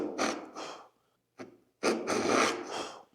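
A Japanese dozuki back saw cuts through wood in short, close back-and-forth strokes, a dry rasping rhythm of several bursts separated by brief pauses, with no voices.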